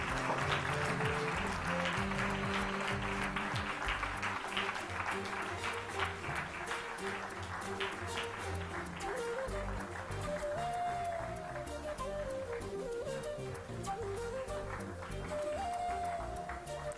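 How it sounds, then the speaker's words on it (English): Audience at an ISKCON Bangalore book marathon closing ceremony applauding a team, a long, steady, even spread of clapping from a large crowd, with voices and some tonal sounds mixed in underneath. "A big round of applause for this wonderful team."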